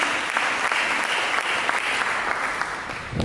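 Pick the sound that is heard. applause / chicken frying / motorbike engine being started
applause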